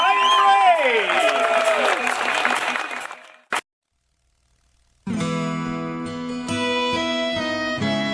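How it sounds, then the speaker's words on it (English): Wedding guests applaud and cheer the newlyweds, dense clapping that fades out, followed by a brief burst, a pause, then music starting. "Ladies and gentlemen, big round of applause for Mr. and Mrs. Brian Wray."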